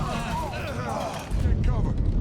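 A grenade goes off in the Mafia 3 video game, a loud low rumbling blast that swells late and sits under shouted voices throughout.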